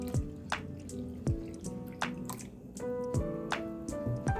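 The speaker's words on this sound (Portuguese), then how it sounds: "a gente coloca 190 ml de base aqui no becker" Body splash base liquid pours into a beaker, heard as a series of close, wet drips and plops with bright glugging tones, irregular but repeated, with no voices.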